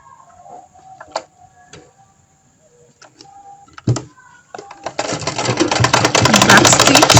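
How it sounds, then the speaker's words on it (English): A sewing machine stitches a zipper onto fabric for a long flared skirt with side pockets, running loudly and steadily in the last couple of seconds after a few quieter clicks and handling taps. "So then we'll go to the sewing machine and sew it down."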